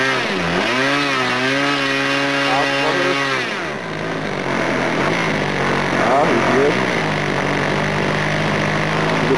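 An OS 46 LA model glow engine with a bored-out carburetor idles unevenly, its buzzing pitch dipping and wavering, then settling into a steady, loud drone, with someone talking over it.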